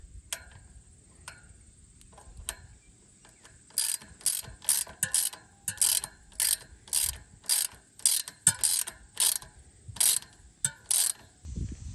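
A tool tightening the front brake caliper bolts on a BBR Stinger bicycle gives a few light clicks, then a steady run of close, sharp ratcheting bursts repeating roughly twice per second.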